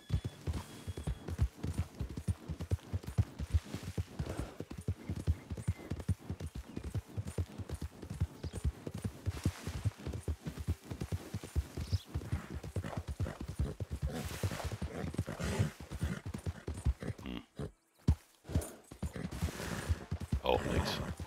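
Horse hooves in the Red Dead Redemption 2 online game beat a fast, steady clip-clop at close range, briefly pausing before resuming, with no speech.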